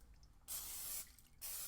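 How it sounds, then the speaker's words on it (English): Cooking spray hisses onto a pizza pan in two steady bursts, the first about half a second long and the second shorter, close and fairly loud with no voices. "I am going to spray this with a little bit of cooking spray"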